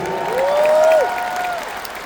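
An audience at a Tim Storey event in Edmonton claps briefly, a light spatter of applause with a rising whistle-like tone sliding through the middle of it.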